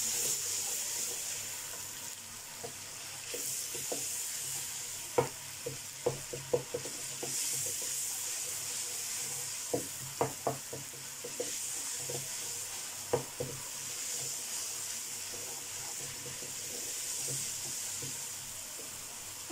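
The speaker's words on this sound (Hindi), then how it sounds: "सिंपल अदरक लहसुन का पेस्ट है, इसमें कोई हरी मिर्च वगैरह नहीं है। इसको थोड़ा सा फ्राई करूंगी।" Ginger garlic paste fries in a pan with a steady soft sizzle. Scattered sharp clicks of a spoon stirring against the metal break through now and then.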